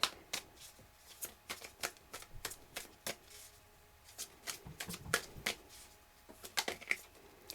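Tarot cards shuffle in quick bursts of riffling and slapping, close and fairly loud, with short gaps between the flurries and no voices.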